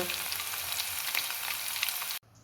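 Tempering for instant mango pickle sizzles loudly and steadily in a hot pan, a dense crackling hiss that stops abruptly near the end.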